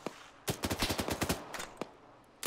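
Rifle gunfire in the video game Arma 3, set in an alternate-history Second Falklands War: a rapid burst of sharp shots in close succession, then two more isolated cracks, fairly loud against a quiet background.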